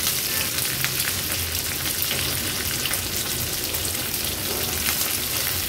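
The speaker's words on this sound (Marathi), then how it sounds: "3 हिरव्या मिरच्या आणि कढीपत्त्याची पानं घेतली ती देखील फोडणीला घालूया। थोडीशी परतून घ्यायची आहे तेलावर।" Cumin, green chillies and curry leaves frying in hot oil for a tempering give a loud, steady crackling sizzle that fills the whole stretch with no voices.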